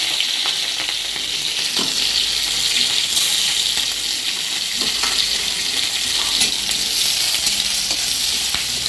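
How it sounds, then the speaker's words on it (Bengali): Crushed garlic and green chilies sizzle loudly in hot oil alongside blackened dried chilies, a steady crackling fry with occasional stirring clinks and no talking. "এখন রসুন থেতো করে রেখেছি আর কাঁচা লঙ্কা একসঙ্গে দিয়ে দেবো।"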